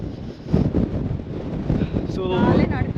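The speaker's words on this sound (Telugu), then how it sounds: "సో ఇక్కడ విండ్ అయితే చాలా ఉంది, నడవకుండానే పుష్ చేసేస్తుంది మమ్మల్ని." Strong wind buffets the microphone outdoors in Waterton National Park, a continuous rough low rumble that surges and eases, with a brief voice in the background near the end.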